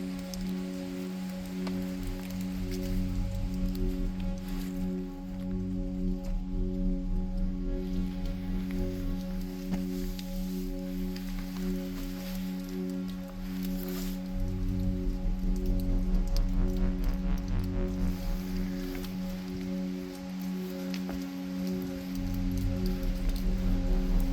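Steady, dense roar of a waterfall right beside a cave in the Balma des Moines cirque, a continuous rushing wash with a low rumbling body, loud and close throughout with no voices.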